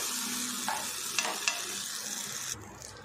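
Sweet omelette bread frying in butter in a pan sizzles steadily and fairly quietly, with a few soft clicks and stirring sounds over the constant hiss.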